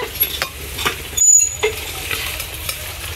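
Chicken pakora frying in hot oil in a village kitchen, a close crackling sizzle with scraping stirs of a utensil at intervals, including one brief louder hiss partway through.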